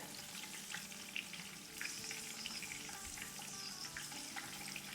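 Garlic frying in oil over a medium-low flame for green chili pickle, giving a soft, continuous sizzle with faint crackles throughout.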